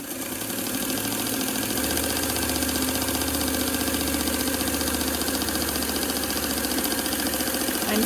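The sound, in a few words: sewing machine stitching long sides of fabric face mask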